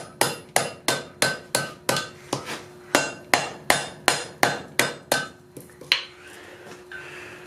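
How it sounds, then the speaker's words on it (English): Steady metal-on-metal hammer strikes ringing out, about fifteen evenly spaced blows with a bright clang, then a pause and a few softer clinks. "Start hammering it again."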